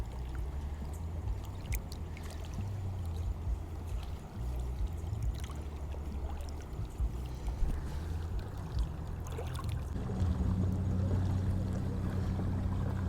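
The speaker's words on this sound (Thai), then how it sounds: "จะมีนักท่องเที่ยวเขาเจ้ามาพายเรือเนาะ" Tourists paddling a rowboat on a clear, cool river make a steady, soft wash of lapping and trickling water that continues throughout and swells slightly near the end, with no voices.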